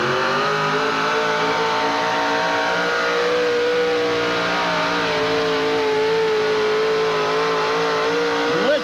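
A 600-plus cubic inch Chevrolet engine in a pulling truck holds a loud, steady high-rpm roar throughout, with its pitch climbing and wavering as it pulls, close by and with no talk over it.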